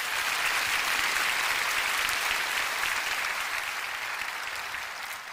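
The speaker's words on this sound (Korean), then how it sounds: "우리 하나님께 영광의 박수 올려드리겠습니다." Congregation applause during a Korean-language church worship service, a dense, even wash of many people clapping together, sustained at a steady level and tapering slightly toward the end, with no talking heard.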